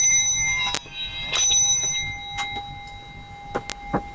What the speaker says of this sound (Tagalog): Set up natin saglit yung bell.